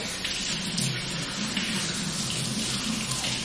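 A kitchen tap runs steadily with cold water, a continuous close splashing hiss with no talking.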